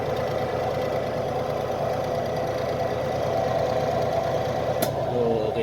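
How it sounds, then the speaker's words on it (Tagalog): A Panasonic washing machine's dryer motor runs with a steady, droning mid-pitched hum and rattly vibration, constant throughout with a brief click near the end. "So ayan, gumagana yung motor niya."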